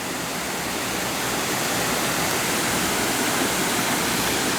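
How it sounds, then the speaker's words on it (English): A small forest waterfall in Brazil roars steadily as a dense, even rush of falling water, close and constant with no voices. "that's a cute little waterfall."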